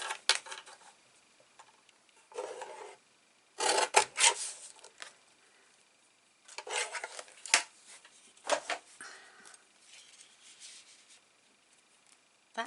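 Scissors trim a paper tag for an 8 x 10 mini album in several short, close rasping cuts separated by pauses.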